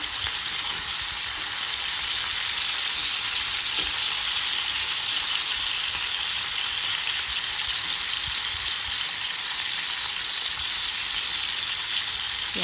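Porterhouse steak sears in a pan with a loud, continuous crackling sizzle that stays constant from start to finish, close and unbroken by talk.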